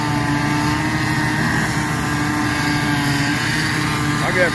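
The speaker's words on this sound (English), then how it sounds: "I'm gonna have to wait here until he's done sawing." A saw cuts through a broken rail at a locomotive derailment site, giving a steady, loud droning whine that holds without a break from start to finish.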